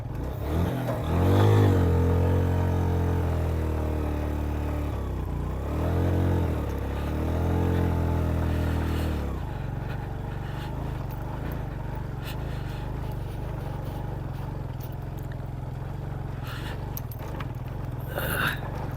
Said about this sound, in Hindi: बड़ी हैवी वाली चढ़ाई है, बाइक मेरी की बस हो गई है।